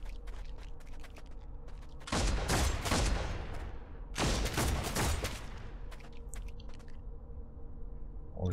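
Gunfire in the video game Deathwatch: Tyranid Invasion: two loud, sustained bursts of shots, each about two seconds long, separated by a short quieter gap over a steady game background.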